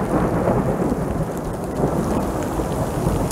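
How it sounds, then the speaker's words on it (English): Thunder rumbles through a severe overnight thunderstorm while rain falls steadily on a surface, a continuous loud roar of low rumble and dense patter with no voices. "Got a little bit of thunder, a little bit like it."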